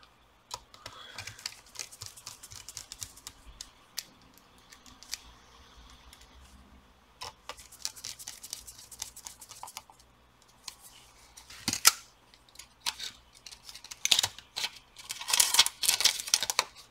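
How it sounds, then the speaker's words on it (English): Small screws being driven into an Asus FX506H gaming laptop, giving faint, scattered clicks, scrapes and ticks of metal on plastic, with brief louder rattles toward the end and no talking. "I'm gonna put the screws first."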